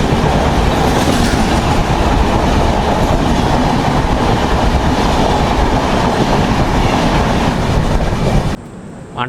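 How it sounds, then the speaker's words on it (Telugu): The Rayalaseema Superfast express from Tirupati to Nizamabad roars past on the opposite track. A loud, steady rumble and wheel clatter fills the clip, then stops abruptly near the end. "మన ఎదురుగా చూసుకుంటే తిరుపతి నుంచి నిజామాబాద్ వెళ్ళే రాయలసీమ సూపర్ ఫాస్ట్ అనేది వస్తుంది."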